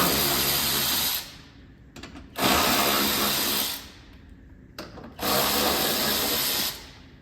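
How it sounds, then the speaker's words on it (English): A power tool with a 10mm socket backs out factory bolts on a 2022+ third-generation Toyota Tundra, whirring in three sustained bursts with short quiet gaps between them, close and loud. "we're going to take a 10mm socket. It's going to be these 3 bolts right here."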